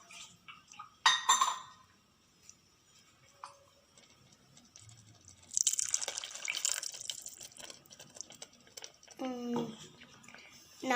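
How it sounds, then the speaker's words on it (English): Water is poured into a cooking pot of green peas masala, giving a spell of splashing and trickling amid clinks of utensils, while a voice talks over the kitchen sounds. "Let's add little water."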